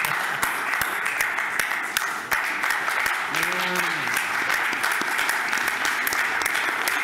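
Applause from a conference audience at an investment forum in Greece: dense, sustained clapping with a brief electronic tone briefly ringing through it midway.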